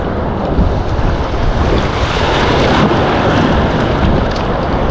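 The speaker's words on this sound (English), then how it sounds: "Watch the wave coming." Surf washes in on a Galveston beach, a loud, dense, continuous rush of breaking waves mixed with wind buffeting the microphone, with no talk.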